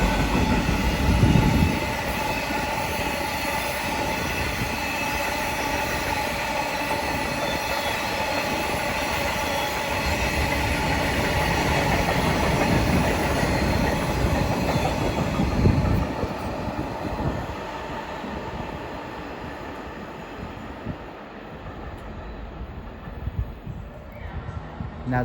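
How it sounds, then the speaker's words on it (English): A DB Cargo UK Class 66 diesel freight train passing through Derby on the Midland Main Line, a loud, continuous rumble of engine and rolling wagons with wheel noise that eases as the train draws away. "a DB Cargo UK Class 66 going from Wolverhampton to immigrant sidings 66060."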